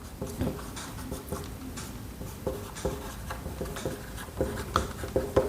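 Chalk writing out Charles's law on a classroom board: a run of short scratchy strokes and taps in uneven bursts, close and moderately quiet, with no talking over it.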